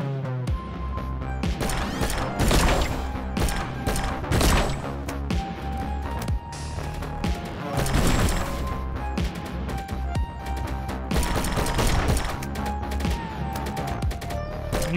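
Rapid gunfire in the movement shooter and platformer game Mantra, a string of sharp shots and crashes over continuous synth music, dense and steady throughout with no talking.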